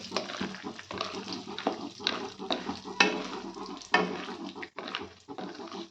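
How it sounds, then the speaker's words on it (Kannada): Almonds fry in ghee in a pan over a very low flame for a dry fruit and nut laddu, a soft, steady close sizzle broken by light scraping and stirring noises. "ಈಗ ಬಾದಾಮಿ ಕೂಡ ಹಾಕಿದ್ದೀನಿ ಆದಷ್ಟು ಸಣ್ಣ ಉರಿಯಲ್ಲಿ ನಾವು ಫ್ರೈ ಮಾಡ್ಕೋಬೇಕಾಗತ್ತೆ"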